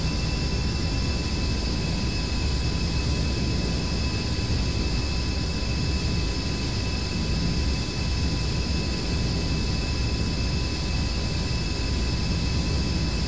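Steady broadband jet engine roar in a DCS flight simulator aircraft as power is throttled back, a continuous whine with tonal lines holding level throughout, no voices.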